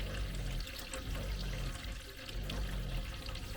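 Water runs steadily from a campervan tap with a gurgling, splashing rush, fairly close and continuous, with no voices.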